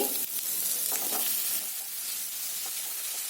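Tomatoes frying with a steady sizzle in a pan while being stirred for Maharashtrian aamti curry, with a few scraping stirs early on and an even hiss throughout.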